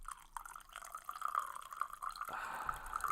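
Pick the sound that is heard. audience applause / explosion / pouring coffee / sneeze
pouring coffee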